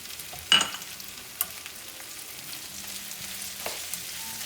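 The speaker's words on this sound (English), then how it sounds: "I'm going to stir that up" Sausage and peppers with oregano and basil are stirred in a pan, giving a low, steady sizzle with a sharp utensil knock near the start and a few fainter scrapes and taps.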